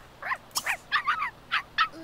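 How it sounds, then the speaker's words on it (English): A puppy in The Sims 3 gives a quick series of high yips and whimpers, about seven short bursts in close succession, clear and near. "We could take care of the puppy a little bit."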